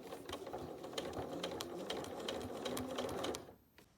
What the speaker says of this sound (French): je pique sur ma précédente couture pour bloquer le passepoil en place